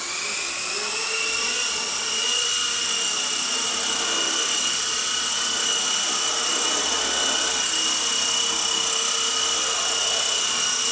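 A Blade 120 S2 RC helicopter flying indoors, its small rotor and motor giving a loud, close, continuous high-pitched whine that holds steady throughout with no talking.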